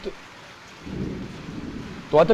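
Steady rain hissing with a low thunder rumble swelling in the middle, then a louder sharp burst near the end, during unseasonal summer rain in Gujarat.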